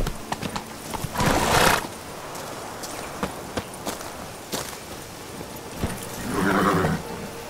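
Horse hooves clip-clopping in The Witcher 3, with sharp separate hoof strikes spaced out, two longer breathy snorts or whinnies rising between them, all fairly close.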